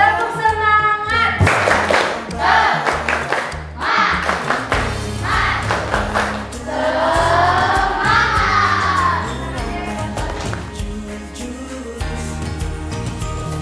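A classroom of students does a group spirit clap, rhythmic patterned clapping in bursts with thumps, close and loud. Children's voices shout along in places, and the patterns change across the routine.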